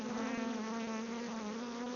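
Honey bees drone steadily in a dense, continuous buzz around an open hive, the sound close and constant with no voices over it.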